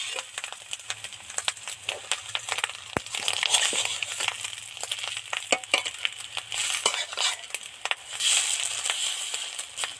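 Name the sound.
fish roe deep frying in a pan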